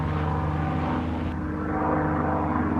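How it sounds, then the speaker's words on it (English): Several propeller airplanes pass overhead on an outdoor hike, a steady broad engine drone that holds throughout without fading, fairly loud and alone with no talking. "Wow, there's a bunch of planes."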